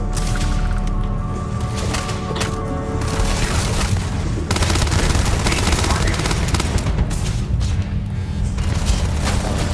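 SMG fire in the sci-fi shooter Starfield, loud rapid bursts with booming impacts running through the whole stretch amid dense combat noise.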